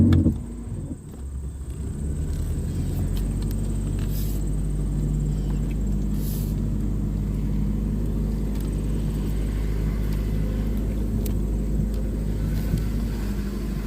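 A 1991 Buick Skylark engine idles roughly while low on fuel, a steady close rumble with a slightly uneven, lumpy pulse that holds throughout after a brief dip near the start.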